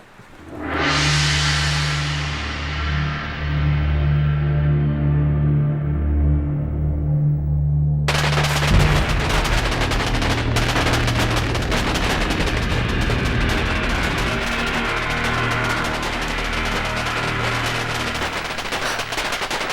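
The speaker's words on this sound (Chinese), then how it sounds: "这是在放庆贺烟花呢" Celebratory fireworks go off in a historical drama scene, a dense, rapid barrage of crackling bursts that runs continuously and loudly after a tonal opening.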